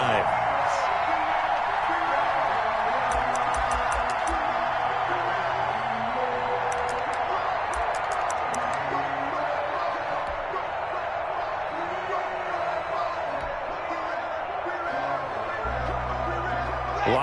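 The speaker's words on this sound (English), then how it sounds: "And this crowd loves it as their guys hold on the opening drive." Stadium crowd noise in an American football video game, a Jaguars home crowd roaring after a defensive stop against the Broncos, a broad sustained cheer with whistles and whoops, heard beneath continuous play-by-play commentary.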